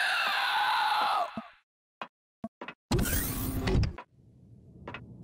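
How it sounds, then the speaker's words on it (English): A scream in the sci-fi survival game Empyrion Galactic Survival rings out loud and harsh for about a second, followed by short bursts and a longer noisy blast, then quiet rumbling. "That scream is out of something else, right?"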